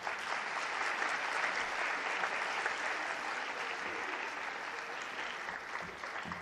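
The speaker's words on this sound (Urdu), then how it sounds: "تالیاں ذرا زیادہ بچا دیں۔" Sustained audience applause for a regional director's students fills the hall, a steady dense wash of clapping from a crowd that fades slightly near the end.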